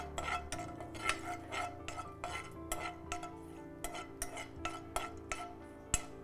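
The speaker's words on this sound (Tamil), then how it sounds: "நெய் வந்து கொஞ்சம் லேசாக அப்படியே உருகிட்டே இருக்கிறச்சு நம்ம இந்த முந்திரி பாதாம் பிஸ்தாவை போட்டு அப்படியே வதக்கிக்கலாம்" Cashews, almonds and pistachios are stirred in melted ghee in a pan, with repeated soft scraping and clinking of a utensil against the pan in an irregular rhythm, fairly quiet and close.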